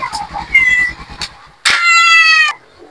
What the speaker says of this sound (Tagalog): Si Ming Ming, nagmeow-meow